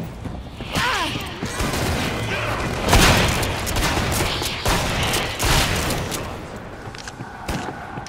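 Gunfire in the co-op zombie shooter game Killing Floor, a dense, loud, continuous fusillade of close shots and booms with a few heavier bangs, with no voices over it.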